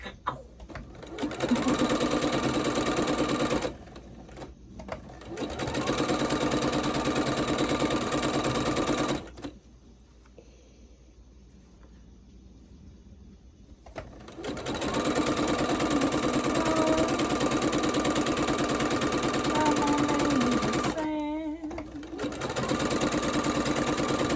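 A sewing machine runs in long steady bursts of rapid stitching, pausing briefly between runs, loud and close with no talking.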